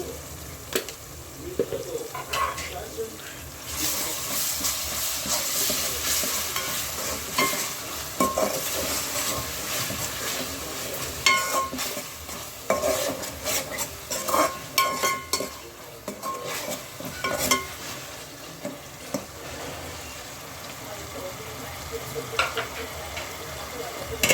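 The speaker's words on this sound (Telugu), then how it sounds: "ఒక స్పూన్ అల్లం పేస్ట్ కూడా వేసుకుంటున్నాను" Ginger paste frying in a hot pan, a steady sizzle running throughout while a utensil stirs and scrapes against the pan in irregular bursts, close and fairly loud, with no talking.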